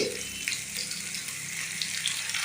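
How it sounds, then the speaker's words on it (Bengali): Ground spice paste sizzles in a pan with lightly fried potatoes for a vegetarian aloo dum, a steady bright hiss of frying heard close with a soft thud at the start. "আলুটা হালকা ভাজা হয়ে গেছে, এবার এতে মশলাটা দিয়ে দেব, যেটা গ্রাইন্ডারে পেস্ট করে নিয়েছি।"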